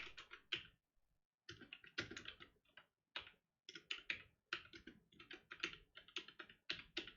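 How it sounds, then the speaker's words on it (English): Someone types steadily on a computer keyboard, quick clusters of close keystrokes with short pauses between bursts and no talking. "Thank you, August, for typing the names of the books"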